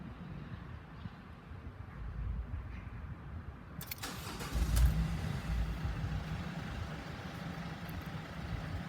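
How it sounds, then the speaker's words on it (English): A Mercedes Sprinter W906 van with the OM651 diesel engine cranks and fires up after its fault codes are cleared, then settles into a steady idle, heard close up with no talk. "Let's just start the car again."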